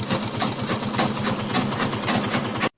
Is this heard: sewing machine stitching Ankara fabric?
yes